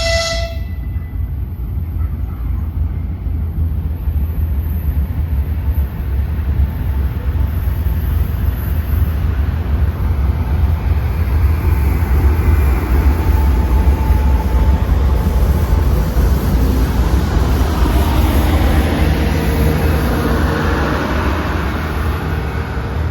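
The Atyrau-Almaty Talgo passenger train pulls into a station with a loud, sustained rumble of wheels and carriages, a brief horn toot at the very start, and steady rolling noise that swells slightly as it passes close by.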